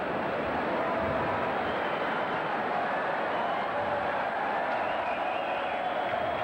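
Stadium crowd at the Hong Kong Government Stadium during a 1987 Hong Kong Sevens rugby match, a steady broad roar of cheering and applause that holds evenly throughout, dense and distant-sounding.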